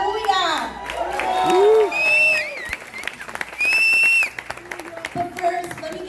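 An audience at a Chicago Latino theater festival kickoff claps and cheers throughout, with whoops and shouts rising over steady applause while a speaker's voice cuts in between bursts.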